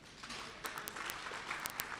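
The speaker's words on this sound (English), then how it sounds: "I think that deserves a hand of applause." An audience at a community college infrastructure launch gives a round of applause for solar installations, heard as faint, distant clapping with a few sharper individual claps standing out.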